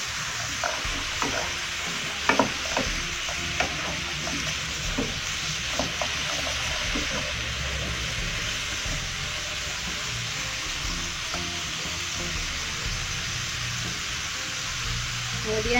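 Pea eggplant (rimbang) fries in a pan with a steady sizzle, punctuated by scrapes and clinks of stirring, the clatters clustered early and fading into continuous frying.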